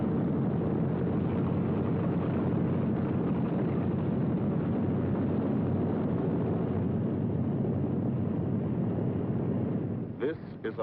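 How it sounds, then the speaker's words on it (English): B-17 Flying Fortress four-engine bombers flying over the English countryside produce a loud, steady, unbroken engine roar that fills the whole stretch and dips slightly at the very end. "Only the roaring engine sound of the bombers pounding through the quiet English countryside."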